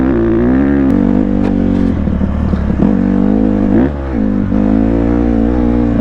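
A Honda CRF150RB dirt bike ridden at speed along a trail, its engine a loud, steady close-up drone that rises and dips with throttle changes and a brief lull near the end, with no talk.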